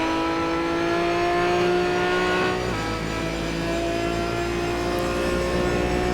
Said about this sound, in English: listen to that Aston Martin. I love the sound of that car.